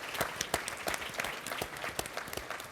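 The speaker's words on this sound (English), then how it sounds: "So I think we should applaud those efforts today." Scattered audience applause at a policy event on U.S. apprenticeships, a modest crowd clapping with distinct individual claps standing out, steady and moderately faint throughout.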